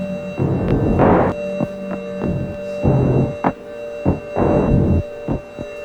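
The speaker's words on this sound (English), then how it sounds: "And I also added Darkstar sounds for ambience." An Old Blood Noise Darkstar effects pedal gives ambient textures: a droning, humming bed with sustained tones, throbbing swells and scattered short pulses, steady and moderately loud throughout.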